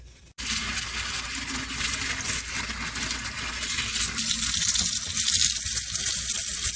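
Steady bubbling and hissing of water boiling in a pot, continuous and fairly close, with no one talking.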